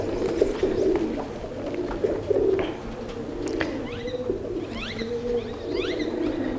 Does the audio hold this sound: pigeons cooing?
yes